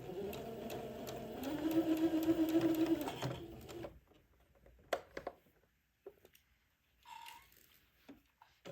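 A sewing machine runs a first pass of a French seam on an antique baptismal gown, a close, steady mechanical whir for about four seconds, followed by quiet clicks and fabric handling.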